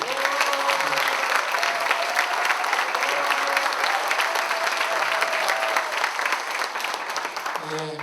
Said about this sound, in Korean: 우리 힘내시라고 응원의 박수 부탁드립니다